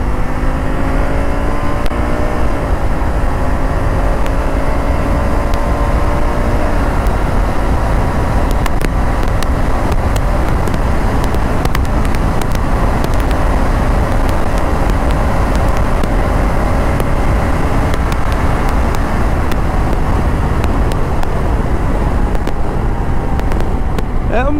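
A Honda Africa Twin motorcycle with a DCT gearbox riding on the road, its engine droning steadily with shifting pitch under heavy, constant wind rush.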